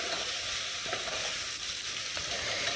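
Ginger garlic paste fries in a pan while being stirred, a close, steady hiss of sizzling oil with faint scraping movements and no voices.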